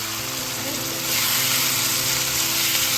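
Chicken fries in a pan and is tossed, a close, steady sizzle that swells louder partway through as the pieces are turned, with a voice speaking briefly.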